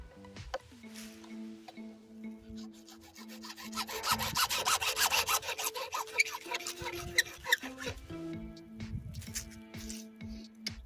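Hacksaw cutting through PVC irrigation pipe for a community garden drip line, rapid back-and-forth rasping strokes building to a dense, louder stretch in the middle before easing off, close by with no talking.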